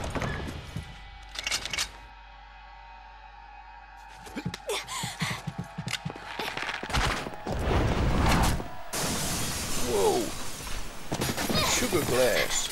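Glass shatters with a sharp burst in a Resident Evil 4 cutscene, followed by scattering shards and crashing debris, with voices and game sounds around it.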